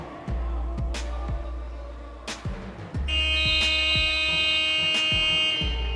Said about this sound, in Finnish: Hitaasti toimi summerikin tänään